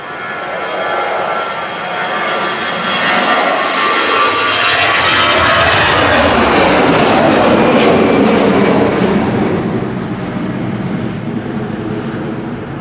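EasyJet Airbus A320 Classic jet airliner passing at Manchester Airport on a windy evening, a loud sustained engine roar that swells to a peak mid-pass and slowly fades.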